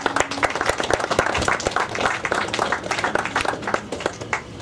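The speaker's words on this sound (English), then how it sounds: "so I'd like to give them a round of applause." An audience at a Citroën owners meeting claps, a brief round of scattered, uneven hand claps of moderate loudness that thins out toward the end.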